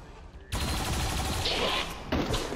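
A heavy turret opens fire in XCOM 2. After a quiet start comes a sudden loud, sustained burst of rapid gunfire, then a short dip and a second sharp burst.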